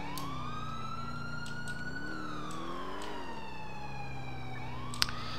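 A wailing ambulance siren in GTA IV with the LCPDFR police mod, a steady electronic tone sweeping slowly up and down, loud and continuous throughout, with a brief sharp click near the end.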